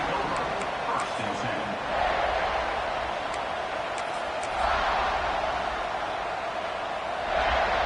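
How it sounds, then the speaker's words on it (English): Sustained roar of a football stadium crowd at a South Carolina game, loud and continuous with surges of cheering that swell and fade every few seconds, dense babble filling the whole space. "this crowd is fired up. Listen to this noise here."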